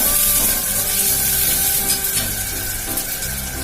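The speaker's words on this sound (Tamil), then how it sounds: "பச்சை மிளகாய் 2 போடுறேன். ஒரு கொத்து கருவேப்பிலை போடுறேன். வெங்காயம் நல்லா வதங்கட்டும்." Onions, green chillies and curry leaves sizzle in hot frying oil, a dense, steady crackling hiss that runs unbroken and close throughout, with no voices.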